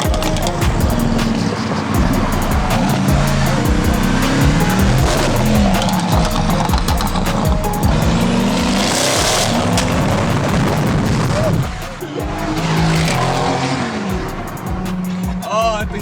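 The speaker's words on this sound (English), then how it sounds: "the second I turn on my car, I instantly redline it" A modified Audi's engine revs hard toward redline, a loud sustained roar with rising and falling pitch, rasping exhaust bursts and a brief dip near the end, with no talk over it.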